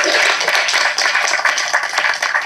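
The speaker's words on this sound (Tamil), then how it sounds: "கணேஷ் மாஸ்டருக்கு வந்து தயவு செஞ்சு ஒரு கைத்தட்டல் கொடுங்க" Audience clapping for Ganesh Master at a Tamil film event, a dense, steady wash of applause from a crowd with no voices over it.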